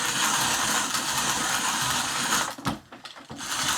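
A Pharos 1.0 hand grinder grinds coffee with a steady, loud, dense grinding rasp that briefly stutters and drops out near the end before resuming.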